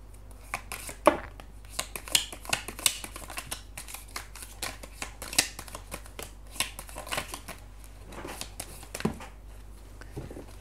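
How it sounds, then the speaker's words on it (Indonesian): Tarot cards shuffled by hand during a reading, a long run of crisp, close riffling snaps and flicks in an irregular rhythm, heard alone. "kita kocok lagi"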